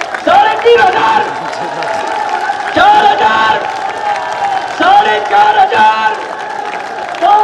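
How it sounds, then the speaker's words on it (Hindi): Crowd at a foundation-stone ceremony for development projects in Gwalior clapping and cheering in loud bursts, with a man counting numbers aloud over a public address system throughout. "जय सिंह जी अब ताली बजाना शुरू कर रहे हैं।"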